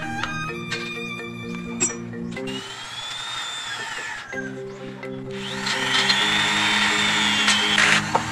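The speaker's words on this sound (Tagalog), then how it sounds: "ito muna yung gagamitin natin, mini grinder" A mini grinder bores a hole in a metal pit bike carburetor manifold, making a whining, buzzing tool noise in choppy bursts whose pitch shifts abruptly between segments, with a louder, brighter grinding stretch near the end.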